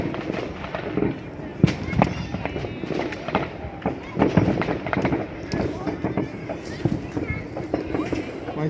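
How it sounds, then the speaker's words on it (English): Fireworks going off outdoors on bonfire night, a run of sharp cracks and bangs at irregular intervals over a busy background, with people talking throughout. "set off a firework"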